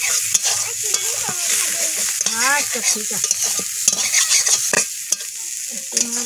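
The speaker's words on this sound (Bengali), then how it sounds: "চিংড়ি মাছগুলো ভাজা হয়ে গেছে" Prawns sizzle and fry in hot oil in a home kitchen while a utensil stirs them, steady close crackling with repeated scraping strokes and a brief spoken remark.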